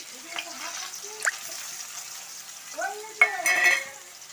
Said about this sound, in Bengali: তেলটা গরম হয়ে গেছে এরপর আমি দিয়ে দেবো পেঁয়াজ কুচি দিয়ে দিলাম পেঁয়াজ কুচি